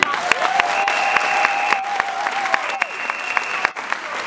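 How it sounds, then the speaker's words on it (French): Audience at a Gabonese political gathering applauds continuously, steady crowd clapping heard at a distance, with a sustained tone and sharp clicks running through it. "applaudissons-le"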